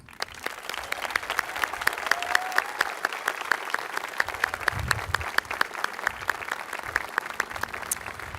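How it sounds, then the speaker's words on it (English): Audience applause at a 2022 high school commencement: a room full of people clapping steadily, with many crisp individual claps audible in the sustained, lively ovation. "A round of applause."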